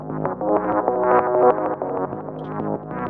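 A synth melody runs through an arpeggiator and a shaper effect adding panning, filter and timing movement, playing rhythmic, pulsing harmonic notes at steady loudness with no voices.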